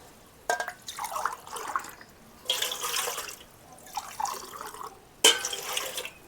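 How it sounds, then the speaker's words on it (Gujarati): Two glasses of water go into a pot used for steaming patra in a village kitchen, arriving as several separate splashing pours with short pauses between them, close by and moderately loud. "તો આમાં આપણે 2 ગ્લાસ પાણી નાખી દઈશું."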